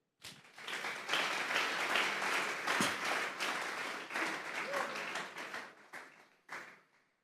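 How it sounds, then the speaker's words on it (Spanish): A church congregation bursts into strong applause after an amen, a dense, even wash of clapping that swells quickly, holds for several seconds, then tapers off in scattered claps. "complemente ese amén con un fuerte aplauso."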